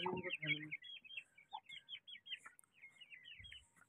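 An Aseel hen clucks among her chicks, giving faint, scattered clucks and higher peeping chirps at low volume, with a brief voice at the start.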